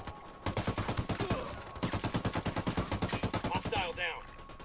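Rapid automatic gunfire from the video game Ghost Recon Wildlands rattles in two long, loud bursts of evenly spaced shots, with a brief pause between them and a trailing electronic sound at the end.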